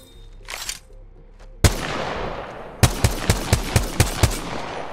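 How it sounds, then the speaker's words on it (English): Sniper rifle fire in the battle royale video game Apex Legends: one sharp loud shot with a ringing tail, then a quick evenly spaced string of about eight crisp shots, preceded by a faint short noise. "Yes, this is a sniper rifle."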